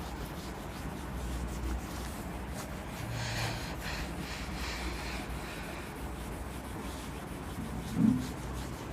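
An eraser rubs across a classroom board in a soft, continuous scrubbing with faint swishing strokes, ending in one brief thump.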